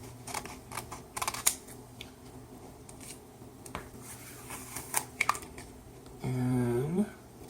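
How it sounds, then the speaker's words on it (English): Scissors snip around vinyl designs for a custom shirt in a series of short, crisp cuts and light rustles close by, with a brief voice near the end. "I'm going to take the scissors and I'm going to cut each design"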